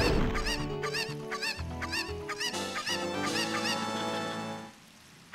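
Chicken clucking in the video game The Legend of Zelda: Ocarina of Time, a run of quick clucks layered over dense game music that fades out near the end.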